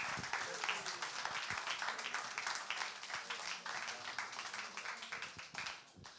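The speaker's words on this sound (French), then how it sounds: "Les applaudissements, s'il vous plaît." Applause ripples through the audience at a business leaders' conference in Avignon as chef Grégory Cohen walks on, brisk individual claps over a steady roar with scattered voices, fading near the end.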